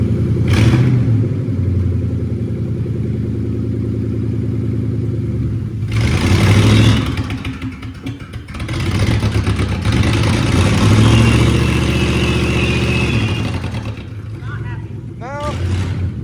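A Ford Torino's engine runs loud and close, its idle swelling into several throaty revving bursts before settling back, with voices nearby.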